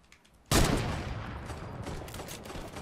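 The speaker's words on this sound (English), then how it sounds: "Haha, you're getting shot." Sustained burst of gunfire in the Fortnite battle royale video game, erupting suddenly after a quiet moment and continuing as a dense, loud rattle of rapid shots for the rest of the clip.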